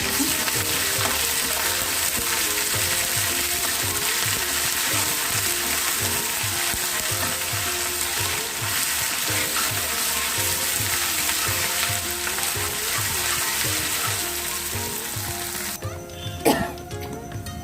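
Steady, loud sizzle of ginger and garlic frying in hot oil, with a fast ticking rattle running underneath and a brief clatter near the end.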